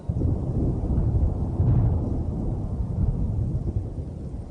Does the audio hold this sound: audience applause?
no